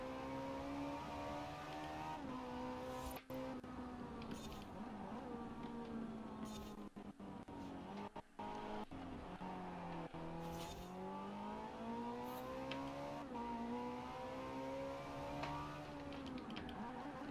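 A Ferrari race car engine in a racing video game drones steadily at high revs, its pitch climbing and falling through gear changes, loud and continuous throughout with no talk over it.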